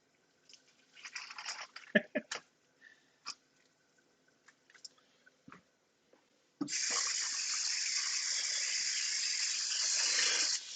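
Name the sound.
hot water running from a tap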